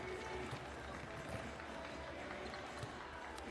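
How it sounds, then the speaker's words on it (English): A basketball arena crowd fills a B.League game between Osaka Evessa and Koshigaya Alphas, a dense steady murmur with faint shoe squeaks and ball thuds, broad and roomy with speech mixed in. "Pretty good sized crowd here."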